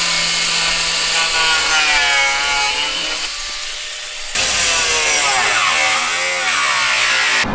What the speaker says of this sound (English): So we're cutting the front fenders, and this is all steel right here